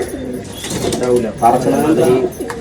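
Pigeons coo nearby in soft, throaty, repeated phrases that overlap one another, with some light background rustle.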